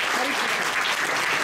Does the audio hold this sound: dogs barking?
no